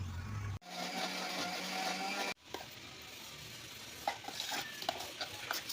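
Bananas with jaggery powder roast in a hot pan, giving a steady close sizzle and stirring scrape that breaks off briefly, then returns quieter with scattered utensil clinks.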